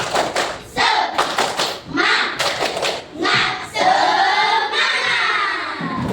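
Schoolchildren in a classroom do a rhythmic 'tepuk semangat' clap chant, bursts of patterned clapping mixed with loud chanting voices in unison, close and lively.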